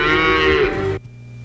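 A single loud, drawn-out cow moo lasts about a second as a sound effect in a radio ad for a rural car dealership, then cuts off abruptly to a faint hum.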